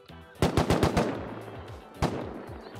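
AK rifle fire in a shooter video game: a rapid close burst of about half a dozen sharp shots, then a short pause and a couple more reports ringing out with echoing tails.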